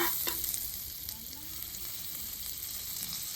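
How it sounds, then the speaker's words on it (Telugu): A spoonful of butter melting in a pan, ready for frying cashews, gives a faint, steady sizzle with a couple of light taps at the start. "1 స్పూన్ బటర్ వేసుకుందామా. బటర్ కరిగించుకుందాము కదా."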